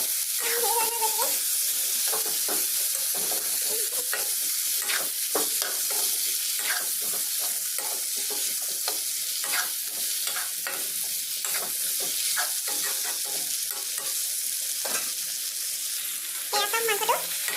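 Pork stirred and frying in a pan over a low gas flame with potatoes, peas, tomato, ginger and garlic, a steady close sizzle broken by repeated scrapes and clinks of the spatula throughout.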